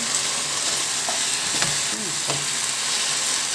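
Pasta carbonara is stirred in a hot pan, a constant close sizzle with a few scraping and clinking strokes of the spoon through the noodles.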